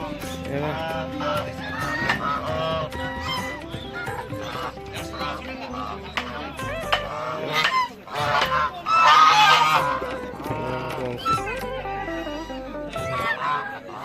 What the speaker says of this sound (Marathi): या साईडला बघा हंस आहेत हंस